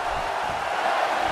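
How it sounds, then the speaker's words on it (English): Crowd noise from a WWE 2K16 wrestling match between John Cena and Bray Wyatt: a steady, dense arena roar of cheering that holds level throughout a short stretch, with no pauses. "by the sound of this crowd"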